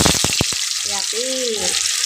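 Tofu fries in hot oil with a loud, close, hissing sizzle, broken at the start by a few quick knocks and later by a brief voice.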